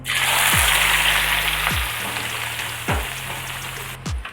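Dried anchovies deep-fry in hot oil, a loud, dense hiss of bubbling that runs continuously, with a few low thumps as the pan or a utensil is moved.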